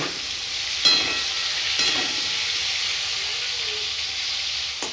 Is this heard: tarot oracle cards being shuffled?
no